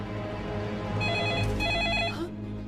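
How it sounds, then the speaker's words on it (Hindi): A telephone rings in short, bright electronic bursts, two rings in quick succession, clear and close. "हक्सली का फोन हुआ तो?"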